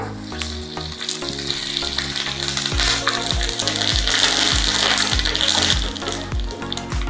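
Mustard seeds, dried chillies and curry leaves fry in hot oil for a tempering for Guruvayur-style rasa kalan, giving a loud, continuous close sizzle with crackling pops and occasional clinks of a utensil.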